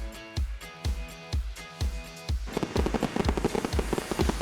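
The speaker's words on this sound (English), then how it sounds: "Watching fireworks over the Potomac River is epic." Fireworks burst over the Potomac River in Washington DC: evenly spaced deep booms give way to a dense, crackling barrage of rapid pops, loud and close, with no talk.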